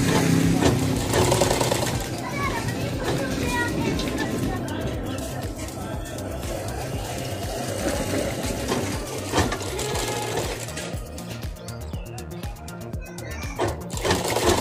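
Sewing machine stitching lehenga blouse fabric with a damaged needle that drags the cloth, running steadily and close up under a voice.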